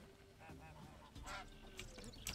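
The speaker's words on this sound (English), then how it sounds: "Geese." Geese honking in The Witcher 3 game as a player enters a town, several short nasal honks over steady background game ambience and music.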